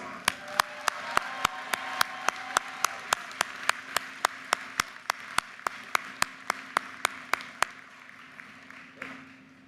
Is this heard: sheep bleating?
no